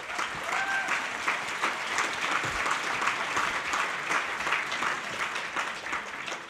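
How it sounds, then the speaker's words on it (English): Steady applause from an audience at a Women in Conservation breakfast event, a dense, even wash of clapping sustained across the whole stretch without a break, with faint murmurs mixed in. "an applause for the Victorian community and the advocates"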